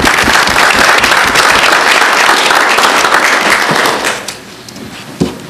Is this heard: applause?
yes